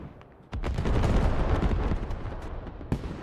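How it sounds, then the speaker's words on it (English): Russian mortar fire in the game Squad, a heavy rumbling barrage of overlapping blasts and crackling impacts that swells and holds loud, with a sharp crack near the end. "Already getting pressured by fucking Russian mortars."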